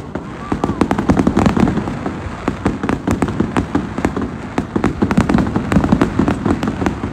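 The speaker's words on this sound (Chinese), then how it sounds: "听说这个烟花上打上的就500块钱啊，就那大烟花。" Large fireworks burst in rapid succession, a dense run of sharp cracks and booms layered over one another, loud and continuous, with a voice talking faintly beneath.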